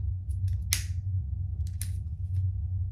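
Scissors cut out pieces of a wallet sewing pattern with a handful of crisp, close snips spaced irregularly over a low steady hum.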